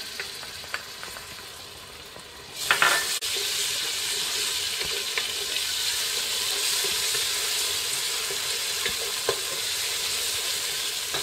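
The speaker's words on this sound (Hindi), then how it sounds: "प्याज को इसके अंदर थोड़ा सा सोते करेंगे" Onions sauté in a pan for Arabian hareesa. A loud, close, crackling sizzle bursts in after a quiet moment and then holds as a continuous frying hiss with small pops and stirring scrapes.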